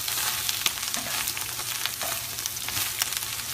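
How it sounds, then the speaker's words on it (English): Kale in olive oil sizzles softly in a pan while a spatula turns it, giving a continuous low hiss with a few light scraping taps, fairly quiet and without talk. "I'm actually going to take a spatula, and I'm just going to turn it a little to coat all of the kale with the olive oil"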